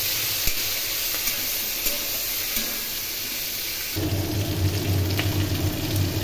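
Pieces of jackfruit, soaked in salt and turmeric water, fry in a pan with a dense, rain-like hiss that swells noticeably louder and fuller partway through, heard close with no one speaking.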